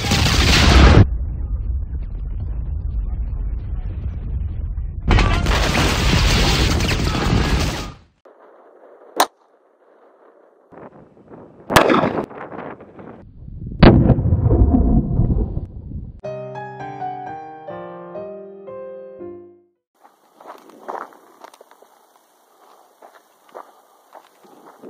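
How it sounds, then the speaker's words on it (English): 9mm pistol shots fired at a non-rated OTV vest groin protector during an armor test: two loud, sharp gunshot blasts with long ringing tails, followed by a few fainter clicks and bangs, then a brief electronic beeping tone. "We're going to shoot it against a groin protector from an OTV vest"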